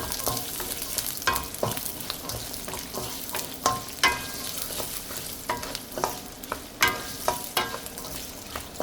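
Garlic frying in oil for a fenugreek shrimp kulambu, a soft continuous sizzle broken by repeated sharp scrapes and clinks of a spoon stirring the pan, close by with no speech.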